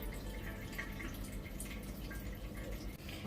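Fuel draining and dripping out of a 2-stroke generator, a continuous fine trickle with dense patter of drops, close and steady throughout, with no voices.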